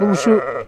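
Sheep and lambs bleat in a short, close wavering cry, with a person speaking over it.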